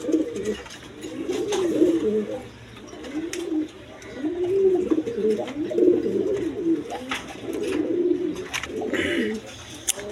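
Pigeons, including Danish pigeons, coo in repeated low, throaty rolls, fairly close and steady across the whole stretch, with faint background noise.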